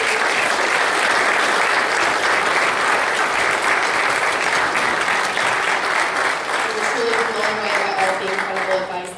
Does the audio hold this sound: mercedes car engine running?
no